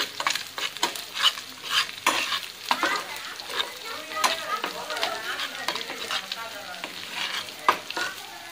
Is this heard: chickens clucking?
no